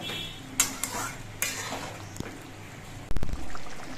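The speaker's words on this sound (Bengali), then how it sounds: "গরম মশলা গুঁড়োটা দিয়ে নেড়ে চেড়ে মিশিয়ে নিতে হবে" Garam masala powder being stirred into a thick chhana curry in a pan, a few short scrapes and clinks of a spoon against the pot over a soft simmering bubble, ending in a louder rattling knock.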